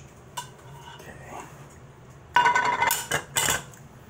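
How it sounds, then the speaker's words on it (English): A utensil stirs tuna and broccoli in a cooking pot, giving a few soft scrapes followed by louder clinking and rattling bursts in the second half, with faint background noise. "We're gonna stir this"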